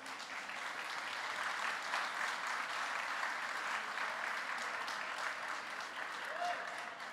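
An audience at a cannabis policy panel discussion applauds with sustained, even clapping, a dense steady roar of many hands that holds from start to finish at moderate distance.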